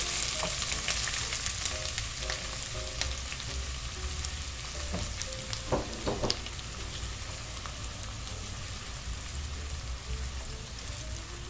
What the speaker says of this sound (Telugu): ఇలా ఆనియన్స్ గోల్డెన్ బ్రౌన్ కలర్ వచ్చేదాకా ఫ్రై చేసుకుని మనం టొమాటోస్ వేసుకున్నాం